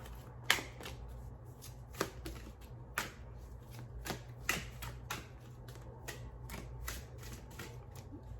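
Crisp tarot card riffles snap through the quiet roughly once a second, each burst brief and close, over a low steady hum.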